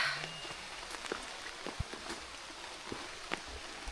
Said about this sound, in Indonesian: Kita nikmati dinginnya hujan di Gunung Slamet ya.